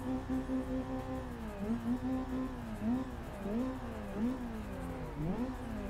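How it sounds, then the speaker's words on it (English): Car engine revving in the Assetto Corsa racing game, a drift car on the Nagao touge mountain road, with rising and falling engine pitch in repeated rev sweeps, steady and fairly loud throughout. "Can you hear me while revving the car, guys?"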